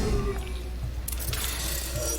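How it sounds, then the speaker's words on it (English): Many mechanical panels shifting at once inside a Portal 2 test chamber, a loud continuous rumbling clatter with bursts of metallic rattling and scraping layered over a heavy low drone. "that was the sound of a lot of panels moving at once"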